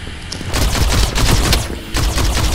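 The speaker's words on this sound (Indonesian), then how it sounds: "dia nggak ada reloadnya, jadi dia nembak terus sampai pelurunya habis" Continuous rapid gunfire from a robot's gun in the video game Armored Head, a dense loud fusillade of shots with booming impacts, rattling on almost without pause.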